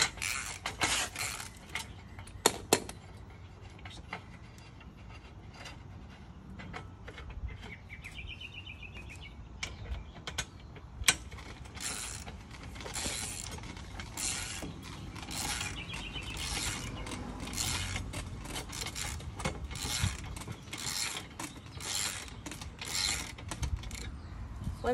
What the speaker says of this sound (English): we're just gonna tighten the bolt until the side-to-side level, oval level is even.